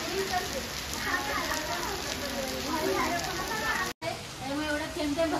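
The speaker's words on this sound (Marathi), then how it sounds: "खूपच पाऊस पडतोय." Continuous rain patters steadily on surfaces nearby, with voices talking over the downpour.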